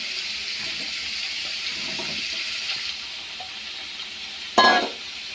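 Soybean chunks fry in a pan with turmeric and salt, giving a soft continuous sizzle with faint stirring, and one sharp splashy burst near the end.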